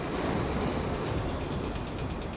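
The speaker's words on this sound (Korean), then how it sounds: "인근 주민과 관광객들은 몰아닥치는 파도에 위협을 느끼기 일쑤입니다" Waves surge onto an eroding sandy beach on the coast, making a continuous loud roaring wash of surf with no voices.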